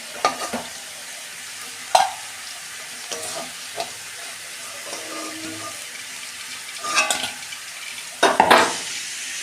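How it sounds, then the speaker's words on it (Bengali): Tengra fish frying in hot oil in a pan, with a steady close sizzle broken by a few sharp clinks and scrapes of stirring or lifting the fish, busiest near the end; no one speaks. "দেখুন বন্ধুরা, মাছ ভাজা আমার হয়েছে। এই তো তুলে নিচ্ছি আমি।"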